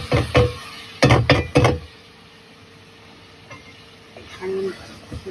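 Turnips tumble into hot oil and spice masala in a pan, with a few sharp scraping stirs near the start, then a quieter sizzle and a brief later stir.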